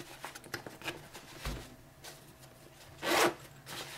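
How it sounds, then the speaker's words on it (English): A double zipper on the padded front pouch of a Vanguard Endeavor ED IV 10x42 binocular case is pulled in one short, bright, close zip near the end, after light rubbing and handling noises. "Double zipper."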